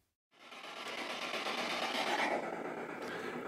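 A ghost-hunting device on a table begins hissing white noise after a short silence, a steady broadband rush that holds at an even level to the end.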